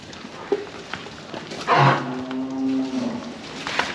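A Friesian-type cow on a farm gives one clear, drawn-out moo in the middle of the scene, fairly close, over quiet background noises.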